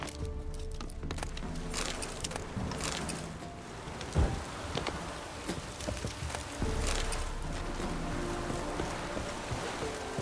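Steady rain falls in the Witcher 3: Wild Hunt video game, a dense broadband wash running the whole stretch, mixed with other busy game ambience and a sharp knock partway through.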